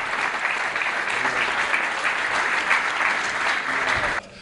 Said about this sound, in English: I seek your engagement with a loud, thunderous applause